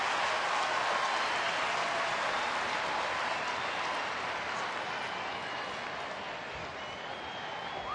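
Baseball stadium crowd at a Phillies home game cheering and applauding Shane Victorino as he comes to bat, a broad, sustained roar of clapping and crowd noise lasting several seconds.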